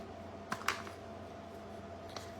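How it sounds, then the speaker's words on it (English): Scissors snip twine or ribbon ends off a fall floral craft, a few faint, quick clicks close by in a quiet room, two near together and one a bit later. "Okay, so I could just cut these pieces off."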